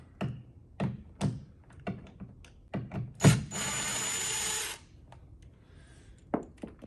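Door hinge screws come out of a sagging door in a run of short, separate taps and knocks, with a single longer rasping burst of a couple of seconds in the middle, all close and fairly quiet, with no talk.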